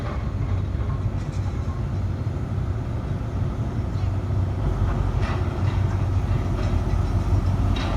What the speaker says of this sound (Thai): 4529เข้าปากคลองนะครับ